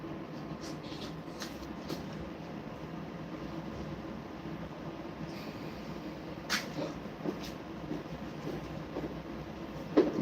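Moscow metro train at Lyublino station, a low steady rumble and rolling drone with scattered clicks and clanks, moderately faint, with murmured voices in the background.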